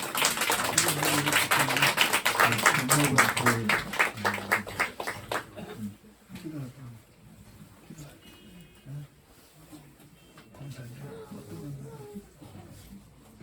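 A church congregation claps: dense, loud applause for about five seconds, then it thins out and fades while a voice carries on.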